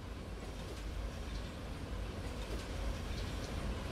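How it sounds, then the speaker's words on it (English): A train rolls over a bridge in Promods, a low steady rumble with a faint rhythmic rattle carrying through the whole stretch, moderately distant and unbroken. "In a second, we'll get to see the train go over the bridge."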